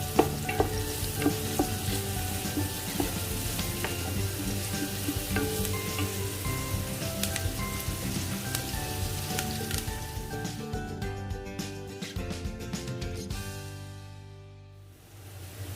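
Onion sautés in a pan for lumpia filling, sizzling steadily while a spoon stirs and scrapes it in quick repeated strokes, the frying fading toward the end.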